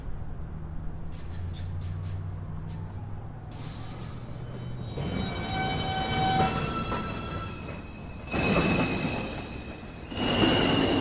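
A Manhattan-bound NYC subway 2 train moves through Beverly Road station with a steady rumble and rising wheel and motor noise that grows louder. Squealing tones come and go, and a few short clicks sound near the start.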